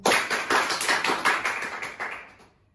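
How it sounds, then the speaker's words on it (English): A small group claps together in a quick, steady rhythm for about two seconds before the applause fades out, close and fairly loud with no voices. "Give her a huge round of applause."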